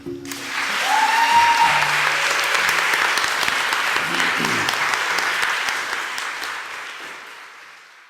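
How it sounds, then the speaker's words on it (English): A crowd at a hometown honoring ceremony rises in a standing ovation, loud sustained clapping and cheering that swells quickly, holds steady for several seconds, then tapers off near the end. "the crowd gives her a standing ovation"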